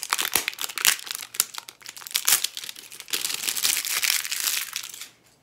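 Sealed plastic packaging on a beauty product is torn and unwrapped up close, giving loud crackling, crinkling bursts in uneven clusters that stop abruptly at the end.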